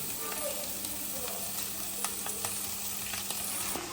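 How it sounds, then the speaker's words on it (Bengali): Boiled taro leaves frying in a pan with prawns and coconut give a continuous, even sizzle and hiss, dotted with faint clicks from stirring. "কচু শাকটাকে ভালো করে একটু ভাজা ভাজা মতো হতে হবে"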